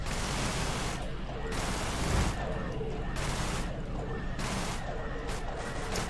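Spaceship guns fire in the EverSpace space combat game, long sustained bursts of noisy blasting separated by short pauses, loud and continuous, with game sounds filling the gaps.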